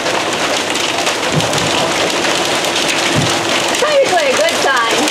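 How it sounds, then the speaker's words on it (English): Hail and heavy rain pound a catamaran at sea, a loud, dense, unbroken hiss and patter close by, with wind noise and a voice speaking briefly near the end. "We've got hail."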